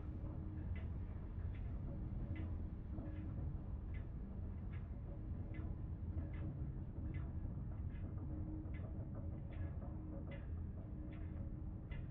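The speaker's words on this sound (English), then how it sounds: "Sounds like a train." Low, steady train-like rumble in Little Nightmares, a constant droning hum with faint rhythmic clacks repeating at regular intervals, heard at a distance.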